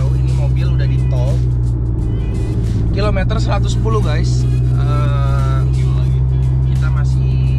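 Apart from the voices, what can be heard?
car driving on a toll highway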